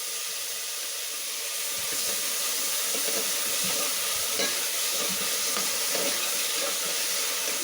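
Sambar ingredients fry in a pan, giving a continuous loud sizzle and hiss with occasional stirring scrapes, steady throughout with no talking.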